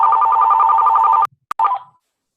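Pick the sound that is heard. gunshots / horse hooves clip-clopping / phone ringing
phone ringing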